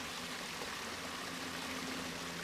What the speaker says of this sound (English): make sure that our intake pipe is clear and is able to take in water